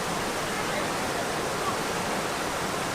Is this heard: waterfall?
yes